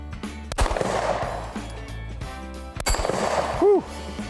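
Pistol shots from a Smith & Wesson M&P Shield Plus chambered in 30 Super Carry, fired one-handed outdoors: two sharp, loud reports spaced a couple of seconds apart, with a brief voice-like tone near the end.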